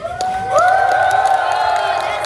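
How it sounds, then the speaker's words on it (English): A crowd cheers and applauds at an Ultraman stage show premiere in Malaysia, with a steady, loud wash of claps and whoops beneath a sustained, rising tone that carries through the whole stretch. "give a round of applause to that"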